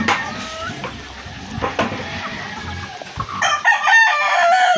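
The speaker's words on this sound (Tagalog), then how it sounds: "O mga manok." Chickens clucking around a backyard coop, with a rooster crowing loudly and close by near the end, the birds heard on their own without talk.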